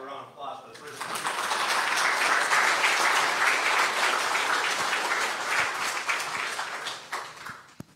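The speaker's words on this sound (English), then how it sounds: "let's have a round of applause for the first one." A church congregation applauds during a Sunday service, a full crowd of clapping that swells within a second, holds steady for several seconds, then thins out, with a few voices mixed in.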